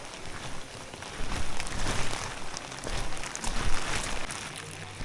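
Heavy monsoon rain pours steadily on the trek to Triund, a dense, continuous hiss that swells and eases without any talk.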